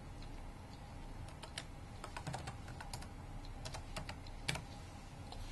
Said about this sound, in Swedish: Jag klickar och så skriver jag min rubrik.